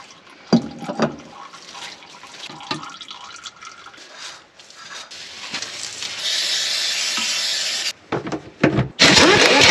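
Oil trickles and splashes down a V-shaped channel into a hole underneath on farm machinery, an uneven liquid pour that swells to a steady rush and ends in a few louder splashes.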